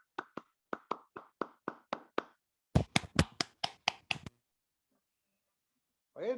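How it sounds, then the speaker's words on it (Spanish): A small group applauds a master at a spiritual gathering. Two short bursts of crisp, sparse hand claps come close to the mic, separated by a pause, with near silence after them. "Un aplauso para el maestro."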